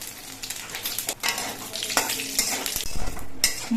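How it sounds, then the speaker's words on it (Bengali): Bay leaves, a dried red chilli broken in two and whole cumin crackle and sizzle in hot oil, with clattering spoon and pot knocks over the frying, close and with no voices. "এবার তেলের মধ্যে দিচ্ছি দুটো তেজপাতা একটা শুকনো লঙ্কাকে দুটুকরো করে দিচ্ছি অল্প করে একটু গোটা জিরে দিচ্ছি"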